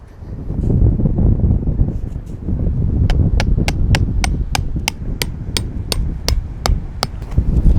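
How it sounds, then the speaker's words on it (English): A big sand peg is hammered into the ground at an outdoor awning setup, with about fourteen sharp, evenly spaced strikes starting partway through. The strikes are fairly close and sit over steady wind rumble. "Now I'm just going to put a peg out here. So I'm going to use these big sand pegs today."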